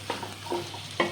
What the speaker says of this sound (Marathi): तेल सुटल्यानंतर याच्यात उकडलेले 4 बटाटे कट करून घेतलेले याच्यामध्ये टाकून हे व्यवस्थित एकत्र मिक्स करून घेऊया